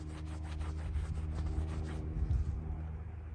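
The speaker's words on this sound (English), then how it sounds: "Maybe wipe all the excess off this area." A towel is rubbed over a car tire to wipe off excess graphene acrylic tire shine spray coating, making close, rhythmic scrubbing strokes that continue steadily throughout.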